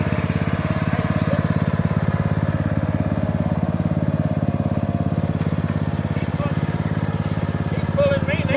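A tractor engine runs steadily and close while it is driven, with a continuous chugging drone that stays at an even pitch throughout.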